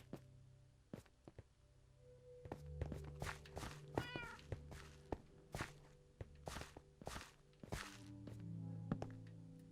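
A cat in the Minecraft video game meows faintly amid a quick run of footsteps and blocky thuds and clicks, with a soft electronic background tone underneath.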